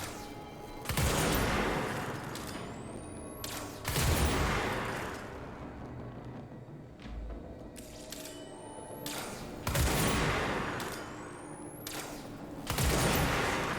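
Rocket launcher in the video game Control firing four times, each shot a sharp loud blast with a brief whooshing trail and a decaying rumble, spaced a few seconds apart.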